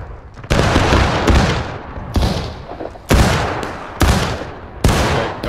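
Musket volleys fire in War of Rights, a Civil War–era line battle: six loud, sharp cracking blasts spaced about a second apart, each trailing off into a rumbling echo, no talk.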